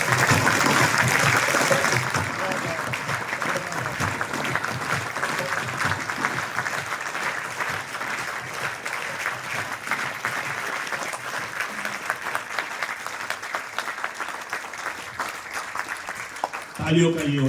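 An audience at a theatre festival applauds after a long-running play; sustained, dense clapping throughout, loudest at the start, with a brief louder burst near the end.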